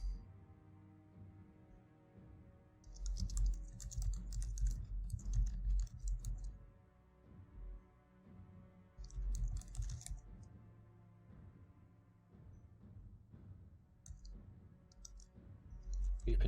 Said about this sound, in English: I'm typing out for you.